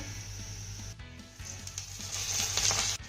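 Vada pieces sautéed with onion in a pan give a continuous, moderately loud sizzle that swells toward the end, with a few faint stirring scrapes and no talking.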